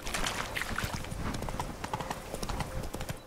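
Horse hooves clip-clop rapidly and steadily in The Witcher 3, a close, continuous trotting rhythm of sharp hoof strikes with faint game ambience behind.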